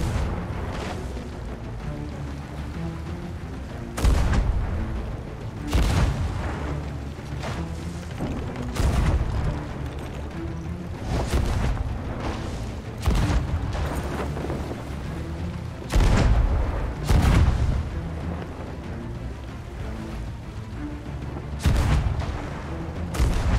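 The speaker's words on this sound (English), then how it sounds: "Let them taste the triple guns." Heavy cannon fire from ships in Sea of Thieves, a triple-gun broadside, about a dozen deep booms spaced irregularly over steady background rumble, loud and close.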